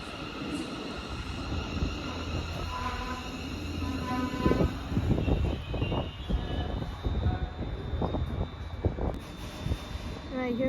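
A Class 380 electric train passes through Paisley Gilmour Street station, its rumble and wheel clatter rising mid-clip over steady background hum, with faint talk at times.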